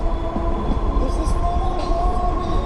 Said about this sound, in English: And we'll wait for the train there.